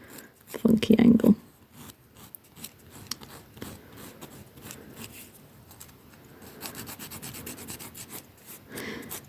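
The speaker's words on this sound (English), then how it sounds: "Some people will say that you should only file your nails in one direction" A nail file rubbing across fingernails in short, quick rasping strokes, close and fairly quiet, with a louder scrape near the start and a person talking over it.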